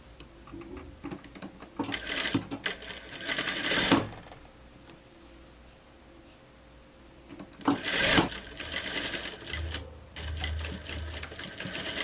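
Bursts of a sewing machine stitching a blouse, rapid mechanical whirring in two main runs separated by a quiet pause, close and clear with a few shorter stitches near the end.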